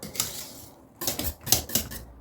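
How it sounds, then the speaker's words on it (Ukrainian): Potatoes being whipped by hand for three to five minutes until light and airy, giving quick clattering strokes of a utensil against the bowl in short bursts with brief pauses, close and fairly quiet. "Хвилинки 3-5, ось так позбивати, і вона стає така повітряна."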